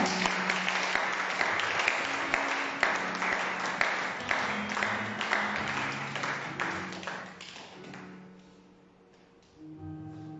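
A church congregation applauds at a worship service, a dense, sustained clapping that carries on for several seconds before thinning out and fading.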